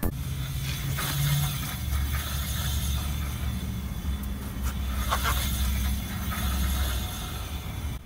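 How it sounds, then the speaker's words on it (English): A front brake rotor spins freely on the hub of an Infiniti G35/Nissan 350Z, giving a close, steady mechanical whir with faint rhythmic scraping and light ticking, no voices. "And you just wanna listen for whether or not the brake caliper is gripping onto the rotor at like random times."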